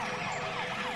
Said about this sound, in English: Turn on your siren and rush to the stadium.